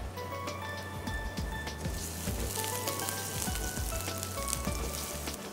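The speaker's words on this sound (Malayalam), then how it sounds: "നമുക്ക് ആദ്യം നമുക്ക് വെളുത്തുള്ളി ഇഞ്ചി ഇട്ട് സ്റ്റാർട്ട് ചെയ്യാം." Garlic, ginger and green chili fry in hot oil, giving a dense, steady crackling sizzle with scattered pops that runs unbroken throughout.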